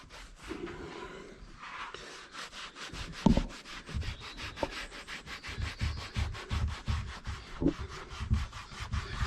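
Tyre dressing is rubbed around a tyre with steady, rhythmic scrubbing strokes, close and moderately quiet, repeating evenly without talk.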